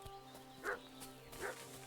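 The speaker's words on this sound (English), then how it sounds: "What's that dog making such a fuss about?" Dog barking in the medieval video game Kingdom Come: Deliverance 2, two fairly faint barks about a second apart over a steady low background hum.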